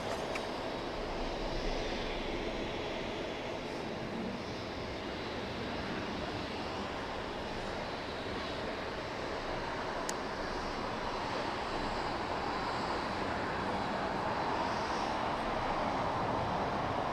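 A Korean Air airliner's engines drone at LAX, a faint, steady broadband roar with a distant whine, continuous and far off.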